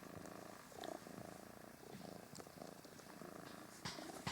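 A cat purrs close by in a steady, continuous rumble that carries on without a break, with faint shifting rustles in the quiet background.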